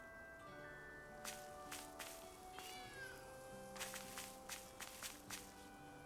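A cat meows repeatedly in the video game Tales of Arise, a string of bright, wavering cries with soft footstep-like taps mixed in, heard fairly close and alone with no talking.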